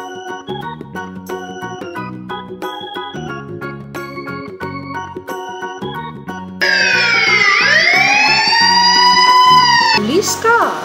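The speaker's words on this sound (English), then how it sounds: "Black color police car." Police car siren from a children's vehicle-learning cartoon, entering partway through over a bright, plinking music bed with a loud rising-and-falling wail that sweeps up and down, the music continuing beneath.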